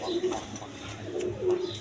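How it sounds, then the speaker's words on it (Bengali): Lotan pigeons, a pair kept for sale, coo in repeated low soft phrases close by, with faint background noise and no clear talk over them. "দর্শকবৃন্দ এখানে এক পেয়ার কবুতর আছে দেখেন, লোটন কবুতর"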